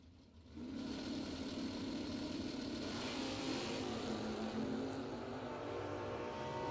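Drag racing cars launching at a bracket racing event, one running a wheelie, a loud sustained engine roar starting abruptly and holding steady from a distance.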